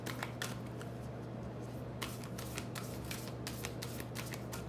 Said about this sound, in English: Cards are a little big for my hands, so I have a hard time shuffling them.